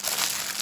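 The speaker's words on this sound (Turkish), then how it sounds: "Üzeri için yağlı kağıdı buruşturup" Parchment paper crumpled by hand over an eggplant kebab dish gives a brief, close, crisp crinkling burst.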